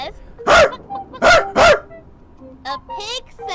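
A voice imitating a chicken, three loud squawking clucks up close in quick succession, followed by softer higher-pitched vocal sounds.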